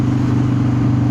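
A car's engine, fitted with an underdrive pulley and being short-shifted around 4,500 RPM on a test drive, drones with a low, steady growl close by, held constant through a brief moment without voices.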